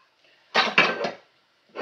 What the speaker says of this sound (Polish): Muszę te garnki pochować, bo tu wszystko mi stoi na wierzchu.